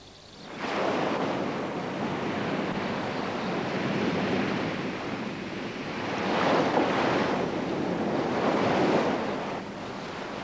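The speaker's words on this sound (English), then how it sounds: "Waves sweep the coast, making embarkation as difficult as returning to the shore." Waves sweep in and break steadily along an island coast, a continuous loud surf roar that swells twice, with wind buffeting the microphone and no voices.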